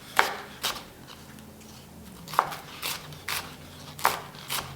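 A knife thinly slicing an onion on a cutting board, producing about eight crisp, evenly spaced taps close up with quiet gaps between them.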